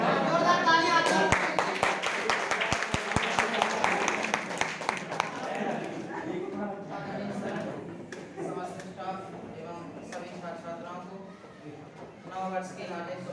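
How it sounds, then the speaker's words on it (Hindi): Applause at a New Year program, a few sharp claps up front while voices talk over them throughout, the clapping thinning out as the speech continues. "जोरदार तालियां"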